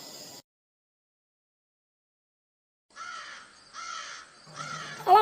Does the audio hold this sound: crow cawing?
yes